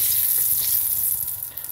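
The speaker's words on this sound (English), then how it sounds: "sizzling along there nicely" Melted butter with turmeric sizzles steadily in a pan, a close, bright frying hiss with a faint stirring clatter near the end and no talk.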